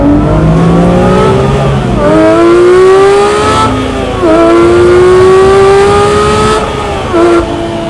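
A 2025 Porsche 911 sports car engine revs loudly and continuously, rising in pitch in several long surges with brief dips between them.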